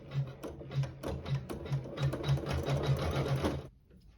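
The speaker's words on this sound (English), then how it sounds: "sew the decorative stitching" A sewing machine stitching decorative stitches on a quilt runs in a quick steady needle rhythm for about three and a half seconds, fairly quiet and close, then stops abruptly.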